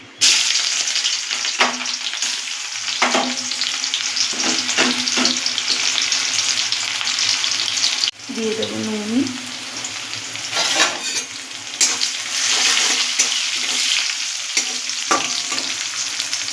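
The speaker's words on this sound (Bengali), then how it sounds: "পেঁয়াজটা ভাজা ভাজা হয়ে এসেছে।" Chopped onions fry in hot oil in a wok with whole garam masala and bay leaves, giving a steady, loud sizzle broken by repeated spatula scrapes and stirring knocks; a voice speaks briefly.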